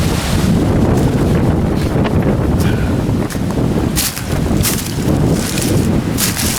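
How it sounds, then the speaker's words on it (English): Strong outdoor wind gusting hard across the microphone along a fence line, loud rumbling buffeting that swells and dips in waves throughout, with no talking. "My goodness, it's windy out here."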